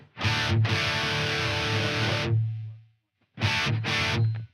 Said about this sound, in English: Here it is, absolutely dry with just simple dry distortion.